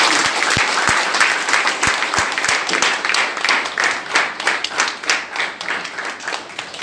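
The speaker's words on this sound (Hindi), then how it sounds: "जोरदार ताली आपके साथ।" An audience of insurance agents and their families claps loudly at a gathering, dense sustained applause close up with a few sharp individual claps standing out at the start.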